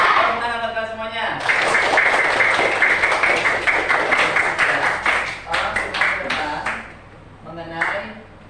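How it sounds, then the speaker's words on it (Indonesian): Students in a classroom clap together, a dense burst of hand claps lasting several seconds that thins into scattered taps, with a teacher's voice speaking before and after. "Tepuk tangan buat kalian semuanya."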